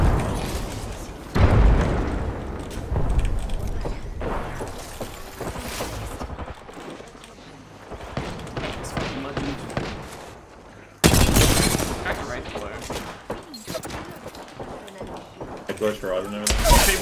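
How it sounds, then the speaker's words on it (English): Grenades go off in an online shooter match, loud booming blasts among scattered gunfire and chaotic game noise, with two heavy explosions standing out, one early and one near the middle, while a player talks over the action. "Oh, it's fucking nades, man."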